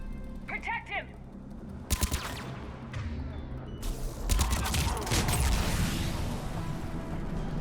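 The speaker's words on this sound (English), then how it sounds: "He's taking fire." Gunfire in the Mass Effect video game, with bursts of sharp shots and rattling automatic fire building into continuous heavy combat noise, while voices talk over it.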